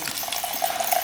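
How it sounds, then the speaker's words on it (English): Premixed two-stroke gasoline pours out of a dirt bike in a steady, close liquid splash without pause for about a second. "Okay, gas is pouring out."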